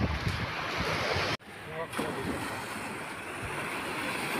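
Surf rushes and washes in broad swells with gusty wind buffeting the microphone, a short dropout breaking the steady roar.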